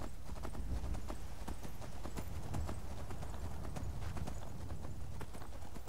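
Frost, a horse in the video game Skyrim, is ridden along at a steady gait, its hooves clopping in a quick, even rhythm, close and continuous.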